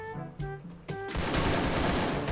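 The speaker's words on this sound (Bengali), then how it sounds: "তার আগে ওর একটু ফায়ার দিয়ে যাব" Free Fire gameplay: a few short tonal game sounds, then a loud, dense burst of rapid automatic gunfire that continues without a break to the end.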